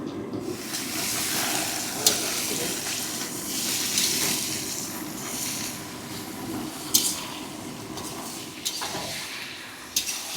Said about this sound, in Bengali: মাংসটা দিয়ে হালকা মতন ফ্রাই হয়ে গেছে